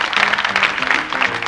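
Loud, dense applause from an audience cheering the winning team at a competition event, steady and continuous clapping throughout with no clear talk over it.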